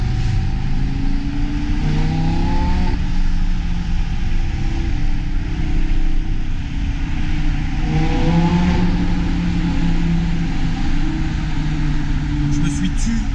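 A Lamborghini Gallardo Superleggera engine idles and revs steadily nearby, its low rumble rising and falling in pitch twice, loud and continuous with no talking.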